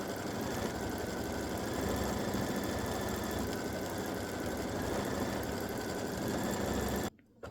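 Computerized embroidery machine running an edge-to-edge hummingbirds and hibiscus quilting design in a 5x7 hoop, stitching fast with a steady, dense mechanical whirr and rapid needle pulsing, constant and close throughout before stopping abruptly near the end.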